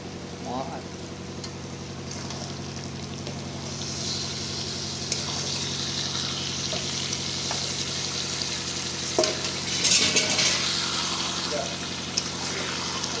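Chicken sizzles and fries in a pan while being stirred, a continuous crackling hiss with scraping and clinks of the utensil, and a few louder spatters near the end.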